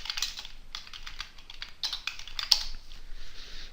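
Fast, light tapping on a computer keyboard while a selection is renamed in Cinema 4D: a steady, irregular patter of quiet key clicks, close by, with no speech.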